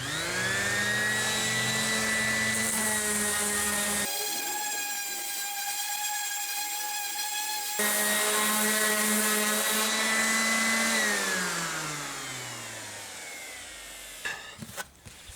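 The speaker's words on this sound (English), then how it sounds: "sand this side down and hopefully it looks similar to that." Power sander runs loudly against a wooden guitar body, a steady high whine that cuts off mid-way and restarts before winding down, with some clunks at the end.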